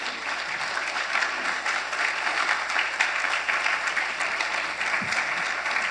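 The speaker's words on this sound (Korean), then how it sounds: "우리 나오실 때 큰 박수로 환영하겠습니다." A church congregation in New York claps steadily to welcome a guest pastor at a Sunday service, a warm, continuous wash of applause from a sizable crowd with a low hum underneath.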